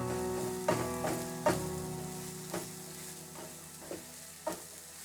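Crushed garlic and zucchini sauté in a pan, a low sizzle under a faint hum, broken by several sharp knocks of a spatula against the pan, spaced irregularly.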